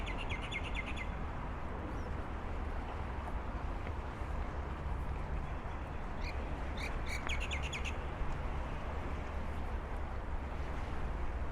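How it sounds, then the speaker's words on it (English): Faint bird chirps and short tweeting calls on Sydney's harbourside near the Harbour Bridge sit above a steady, loud wash of wind or engine rumble. "You can hear the bird life of Sydney."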